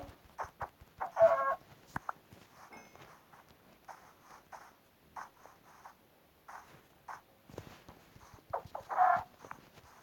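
Minecraft chickens cluck in short, repeated bursts with a couple of louder squawks, interspersed with light clicks and footsteps; no talking.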